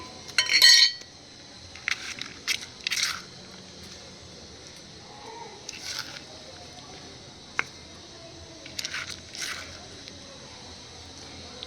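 A spoon scoops fertilizer onto the soil around a hibiscus plant, giving a few soft scrapes and light clinks spread through the scene, with quiet gaps in between.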